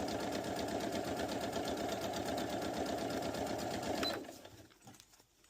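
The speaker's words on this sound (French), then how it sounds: "On pose un pied presseur spécial pose de zip sur la machine à coudre." A sewing machine sews a zip onto bag fabric, its needle hammering in a fast, even mechanical rhythm, close and steady for about four seconds before slowing and stopping.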